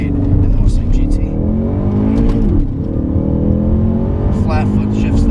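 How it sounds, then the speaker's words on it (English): A 2015 Ford Mustang EcoBoost Performance Pack with a six-speed manual accelerates hard, its engine climbing steadily in pitch. It dips briefly through a flat-foot gear change, then keeps pulling loud and close. "Flat foot shifts there, totally flat. Did not pick my foot up off the throttle."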